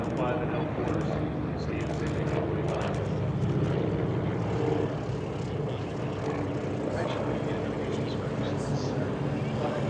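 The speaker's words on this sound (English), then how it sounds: "Some great passes down the runway here for the L5 and L4s." Small L5 and L4 warbird liaison planes make runway passes at an airshow, their propeller engines droning steadily at moderate distance under continuous announcer talk.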